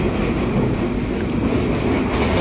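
Steady broadband rumble of a passenger train running on rails, heard from inside a carriage, with a continuous wheel roar and faint clatter throughout and no talk.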